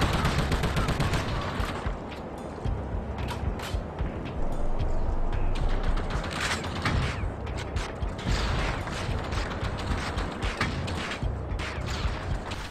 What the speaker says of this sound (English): The gunshots in this game sound wimpy and dull.